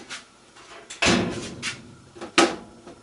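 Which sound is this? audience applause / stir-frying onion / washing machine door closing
washing machine door closing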